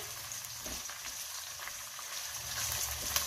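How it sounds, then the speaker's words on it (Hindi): Chopped onions fry in hot oil with black cardamom in a pan for Pakistani chicken pulao, giving a steady close sizzle that holds evenly with no talk over it. "इसको मैं फ्राई करने लगी हूँ"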